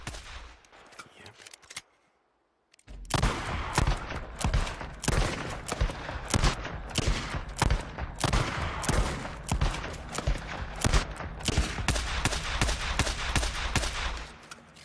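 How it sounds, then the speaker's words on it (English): A PDW pistol fires in the video game Days Gone. After a brief quiet gap come rapid, dense, loud bursts of close shots that keep going almost without pause, with no talking. "Then we have the PDW, probably the best pistol in the game"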